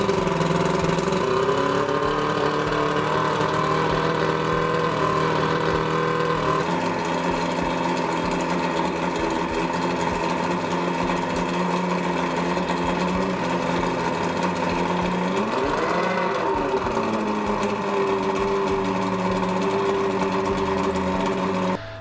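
A two-stroke outboard boat motor runs steadily nearby with a buzzing, even drone, its pitch dipping and rising briefly partway through.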